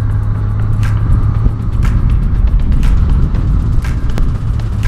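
Yamaha XJ 600 motorcycle cruising on an open road from Andorra toward Barcelona on a worn tire, a steady loud engine drone mixed with heavy wind rumble, with occasional brief bumps and thuds throughout.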